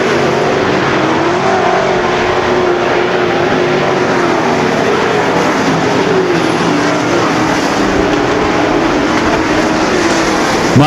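Race cars roar around the track at a Topless Nationals feature race, a loud continuous engine drone with shifting, rising and falling pitches as several cars run together and pass close by.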